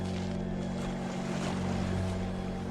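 Steady wash of ocean surf and wind, continuous and fairly loud, with a low engine-like hum running underneath, at a beach where a surfer paddles out and rides the waves.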